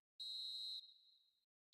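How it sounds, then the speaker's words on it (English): A football video game referee's shrill final whistle: a long pure blast that tails off, then a second short blast starting just before the end, with no other sound. "And there goes Oh the my final whistle."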